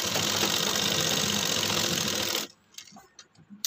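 Sewing machine stitching a shirt collar, running in a steady, loud continuous whir for over two seconds before stopping abruptly, followed by faint clicks and handling sounds.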